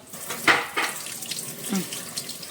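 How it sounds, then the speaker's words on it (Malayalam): Water runs from a tap at a home sink while a child washes their hands: a steady, close rushing flow with brief splashes, under a person speaking. "ടാപ്പ് തനിയെ തുറന്നോളൂ ടാപ്പ് തുറന്നോ"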